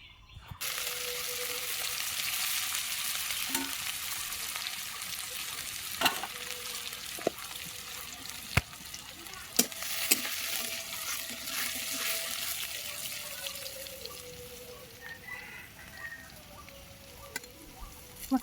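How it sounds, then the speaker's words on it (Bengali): Radhuni spice tempering sizzling and crackling in hot oil during home cooking of broken-rice dishes, a steady bright fry with scattered sharp pops and clicks throughout, close and continuous with no talk. "মা দিয়ে দিল রাঁধুনি ফোড়ন।"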